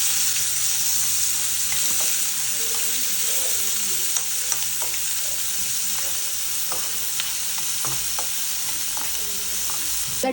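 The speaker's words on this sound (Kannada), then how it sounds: "ಇದು ಸ್ವಲ್ಪ ಫ್ರೈ ಆಗಲಿ ಎರಡು ಈರುಳ್ಳಿ ತಗೊಂಡು ಚಿಕ್ಕ ಚಿಕ್ಕದಾಗಿ ಕಟ್ ಮಾಡ್ಕೊಂಡಿದ್ದೀನಿ ಅದನ್ನ ಆ್ಯಡ್ ಮಾಡ್ಕೊತಾ ಇದ್ದೀನಿ" Finely chopped onions sizzle in ghee and oil with spices in a home kitchen pan, a loud, continuous bright hiss with scattered crackles and occasional stirring clicks, no voices.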